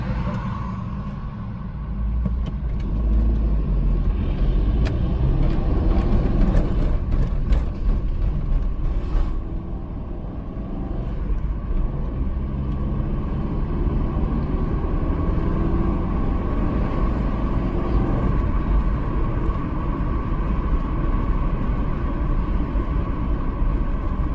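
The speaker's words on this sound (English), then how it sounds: "Does have enough power to accelerate in fourth gear here," A 1993 Dodge Caravan with a 5-speed manual accelerates in fourth gear, a steady low engine drone and road rumble heard from inside the cabin that builds slowly and evenly throughout.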